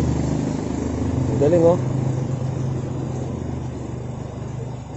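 A motorcycle labours through deep floodwater in Cainta during Typhoon Ulysses, its engine a steady low drone that holds for the whole stretch, with a short burst of a voice partway through.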